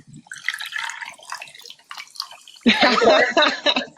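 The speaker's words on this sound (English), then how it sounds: "Yeah, it's all poured in the glass." Spindrift sparkling drink poured over ice into a glass on a Saturday night, with a steady trickling, fizzy pour close by that turns louder and denser partway through.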